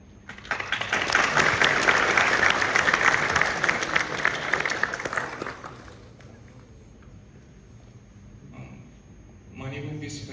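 An audience at a university farewell event for a professor claps loudly for about five seconds, then the clapping fades into quiet room noise before a voice starts speaking.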